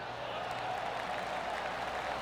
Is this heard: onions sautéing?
no